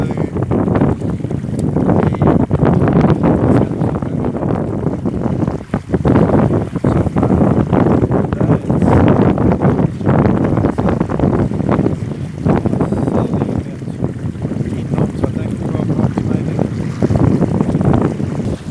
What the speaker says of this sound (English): So we are racing downwind up the harbour, doing about 5 knots I think, right on hull speed.